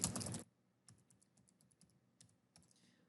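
A password goes in on a computer keyboard: a quick burst of keystrokes, then scattered soft clicks at an uneven pace, close and quiet.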